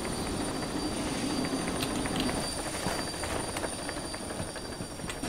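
A continuous heavy rumbling of a steam train in a video game running and stopping, steady and loud, with faint metallic rattles and squeaks over the constant noise.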